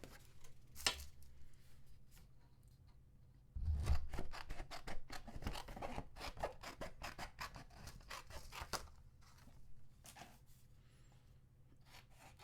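Scissors snip through a piece of cardstock during a foiling craft project, a series of close, dry crisp cuts and rustles that grow busier midway, with no talking.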